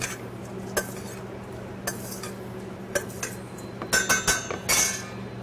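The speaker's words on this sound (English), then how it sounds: "Just gently fold it." A pomegranate salad dressed with vinegar and oil being gently folded in a bowl, heard as soft scraping with scattered utensil clinks that turn quicker and louder toward the end, close by.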